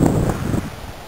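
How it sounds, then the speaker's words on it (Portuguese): Wind gusts buffet the microphone at a paragliding launch ramp, loud rumbling bursts at the start that settle into a softer rush. "O vento tá mais calmo, mas tem meio turbulento."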